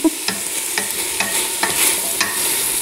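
Stirring a pot of homemade minestrone soup with nettles, with repeated spoon scrapes and swishes at a steady rhythm, close and fairly loud over a faint background sizzle.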